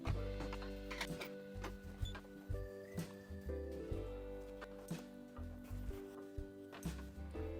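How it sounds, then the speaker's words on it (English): Clamps being unhooked and a quilt rolled forward on a longarm quilting frame, giving a string of clicks, knocks and mechanical rattles over a low hum, close by and without talk. "Next, I'm going to unhook the clamps at the edge of the quilt and then roll it forward until I get it in the position where I want it to be"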